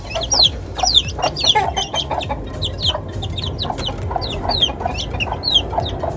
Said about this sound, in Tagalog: Tapos ito yung bagong sisiw natin, no?